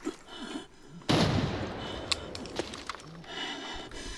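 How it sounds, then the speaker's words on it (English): Gunfire in the shooter game Arena Breakout: Infinite, a sudden loud burst followed by a sustained rattle of shots and sharp cracks, with scattered reports continuing near and far. "I'm getting shot at like crazy"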